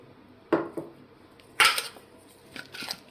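A spoon stirs varagu millet puttu mixed with honey in a bowl, giving a few clinking, scraping strokes in irregular bursts. The strokes are close and moderately loud, with a brief louder scrape partway through.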